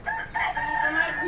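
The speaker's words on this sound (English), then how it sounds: "And chicken." A chicken in a Filipino family's garden gives one brief, close crowing call that lasts just over a second.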